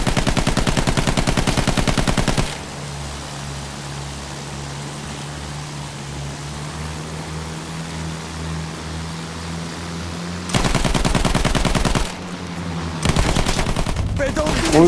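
An attack plane's machine gun fires at an airship in Battlefield 1, sounding as dense, loud bursts of rapid gunfire that break off into a long stretch of droning engine and wind, then return in further bursts near the end.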